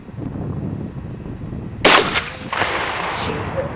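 A gunshot blasts apart a computer monitor at a junkyard, one sharp loud crack followed by a ringing burst of debris and a second rough burst about half a second later over steady outdoor background.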